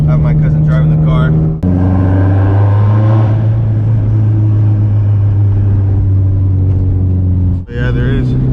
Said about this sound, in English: I have my cousin driving the car